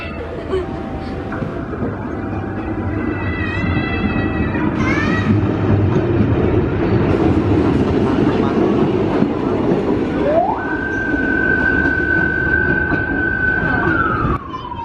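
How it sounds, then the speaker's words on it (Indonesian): A rail trolley rumbles and clatters steadily across the Babakan Abid bridge in Garut, Indonesia, with horn-like tones sounding and a long sustained whistle blast near the end. "keretanya sudah melintas jembatan Babakan Abid mengarah ke arah"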